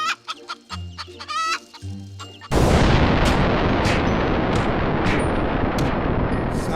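A cartoon rooster clucks several times nearby, then a sudden loud, harsh burst of noise takes over and drowns everything out.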